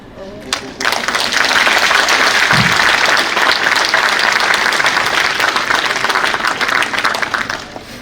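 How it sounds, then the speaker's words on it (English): Thunderous applause fills an auditorium full of students at a leadership talk, a loud, dense roar of clapping that swells in after a brief pause and holds steady before easing at the end. "But that thunderous applause when I say dear to my students there will be heard in rest of India, but I can hear only in this auditorium."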